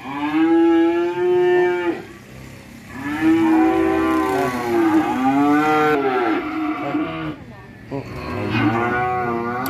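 Several cattle at a Vietnamese cattle farm selling BBB and French cream beef breeds moo loudly and close by, long drawn-out calls following one another with a short gap between, alone without talk.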